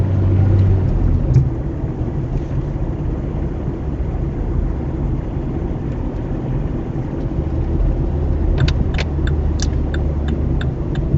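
Inside a car pulling away from a mini roundabout, a steady low engine and road rumble holds throughout, with a few light clicks near the end; no talking.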